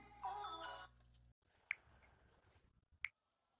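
A cell phone plays a short melodic ringtone, faint and brief, during a Call of Duty: Infinite Warfare gaming session. A couple of soft sharp clicks follow in an otherwise quiet room.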